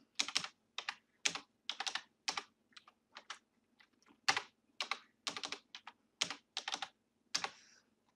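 A password typed on a computer keyboard, with close, crisp key clicks in quick bursts separated by short pauses.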